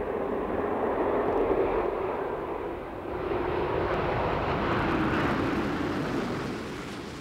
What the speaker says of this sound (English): Columbia over the runway, geared down and locked.